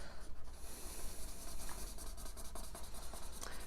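Artesprix thermal transfer markers coloring on paper, a close, soft continuous scratchy rubbing of felt tips with irregular strokes and no voices.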